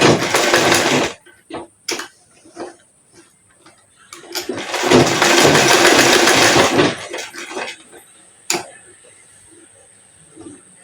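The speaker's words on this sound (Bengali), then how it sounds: "এটা এইভাবে সেলাই দিয়ে নেব। সেলাই দিয়ে নিলে ভালো হবে।" A sewing machine stitches a gathered pajama in two loud whirring bursts, one short and one longer, separated by quiet handling and clicks.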